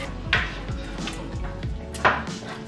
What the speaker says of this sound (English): I just put it in a stainless steel cup, ice, and stir